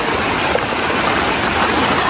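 Floodwater rushes through a flooded village where houses have been entered by water, a loud, steady, close roar of flowing water with no letup and no voices.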